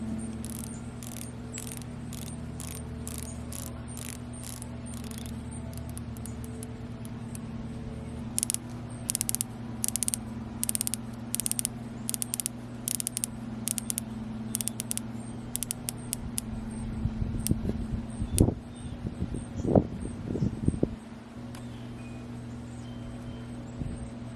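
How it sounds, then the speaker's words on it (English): Rotating bezels on a Seiko SPB143 and a Tudor Black Bay 58 dive watch give close, crisp ratcheting clicks in regular bursts. A short run of clicks starts each turn, with some louder handling taps toward the end. "Here is the bezel sound comparison for you."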